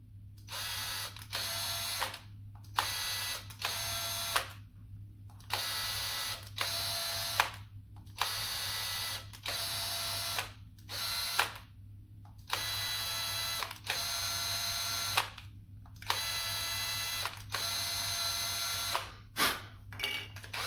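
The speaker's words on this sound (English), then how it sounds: "A 440 tap, not only just the drill bit, but the tap. Tap your holes." A small power tool whirs in repeated bursts while tapping 4-40 threaded holes in a plastic game controller shell, steady high whine switching on and off with brief pauses, close and loud with no talking.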